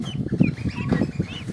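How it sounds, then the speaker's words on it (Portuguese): Guinea fowl keets give a quick series of short, high, sweeping chirps close by, with faint rustling underneath. "Parece pintinho, mas é capotinho."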